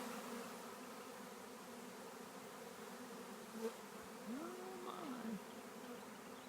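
A honeybee swarm moving into empty hive equipment makes a faint, steady buzzing drone, with one insect passing close by in a brief rising and falling whine.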